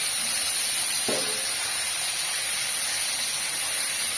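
Fish lowered into hot oil sets off a steady, even sizzle and hiss, with a brief sharper crackle as it goes in, heard close with no talking.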